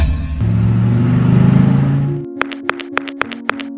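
A car engine runs with a loud, steady rumble for about two seconds, then abruptly cuts out, leaving a few sharp clicks and ticks in its place.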